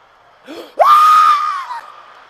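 A comedian's voice imitates a child's scream after a whooping: a short gasping intake, then a loud, sustained high-pitched wail that trails off.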